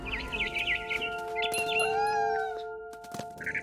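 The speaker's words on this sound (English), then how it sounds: "Then I heard chirping outside my window. It was a barn swallow going back to her nest." Barn swallow chirping near a nest in What Remains of Edith Finch, quick bright twittering bursts over a sustained tonal game music bed, with a few sharp clicks and rustles.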